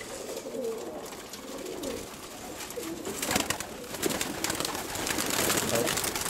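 Young roller pigeons coo in soft, repeated throaty phrases, fairly close, over a background of faint rustling and movement.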